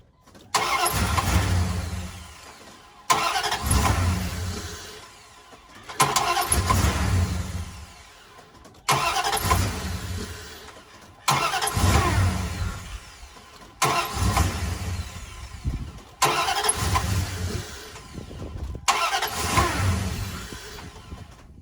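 A car engine is cranked over and over with a $50 portable jump starter, eight separate bursts of loud starter whirring and rough engine noise, each lasting about two seconds and separated by short silent gaps, with no voices.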